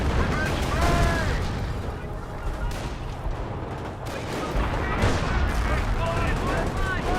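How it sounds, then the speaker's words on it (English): Grenadiers throwing stun grenades in the Company of Heroes strategy game amid a dense battle: continuous rattling gunfire, blasts and rumbling explosions, loud and layered throughout. "We've got stun grenades being thrown by the Grenadiers"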